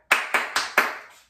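Four sharp hand claps tapping out the rhythm of the words peanut butter in a primary music lesson, the first two spaced slightly wider and the last two quicker, each with a short room ring, no voice.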